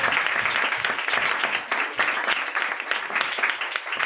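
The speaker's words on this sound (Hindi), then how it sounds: "मैंने कहा जोरदार तालियां बजाएं" Loud, vigorous applause from a church congregation, many hands clapping in a dense, slightly pulsing rhythm that continues steadily for the whole stretch.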